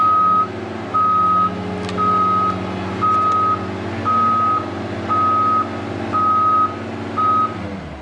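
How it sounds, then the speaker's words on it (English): A loud, steady man lift basket alarm beeps eight times in an even on-off pattern over a low, constant engine hum. "the alarm in the basket will not be going off"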